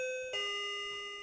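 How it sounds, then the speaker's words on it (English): A doorbell chimes once with a bright two-tone ding-dong whose ringing tones hang and slowly fade in a quiet room. "That's the doorbell."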